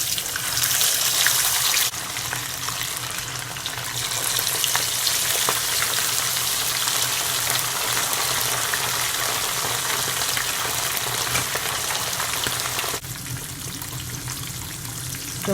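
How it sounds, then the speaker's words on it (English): Jerk-seasoned fish frying in hot oil, two pieces at a time: a loud, dense, continuous sizzle and crackle, close up, with no talking. "So now I'm gonna fry my fish"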